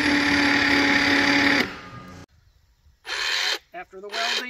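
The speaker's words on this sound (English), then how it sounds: "Sanding." Sanding a welded homemade SDS Max auger, a loud steady grinding buzz that cuts off abruptly, followed by a pause and then shorter bursts of abrasive sanding.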